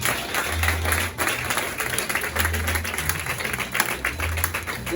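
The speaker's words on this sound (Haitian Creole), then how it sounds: "Allons applaudir le Seigneur." Church congregation clapping together during worship, a dense steady wash of applause lasting throughout, with a low hum and some indistinct voices underneath.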